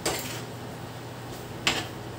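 A metal lid clanks onto a cooking pot of chicken simmering with chili powder. Two short, bright clinks with a pause between them sound close by against a low kitchen hum.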